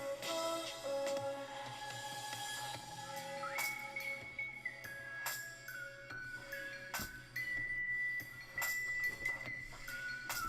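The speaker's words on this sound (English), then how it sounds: "It's a lot of whistling." A melodic whistled tune in a Korean hip-hop song carries over a musical backing, sustained whistled notes stepping up and down in a steady, moderately loud line.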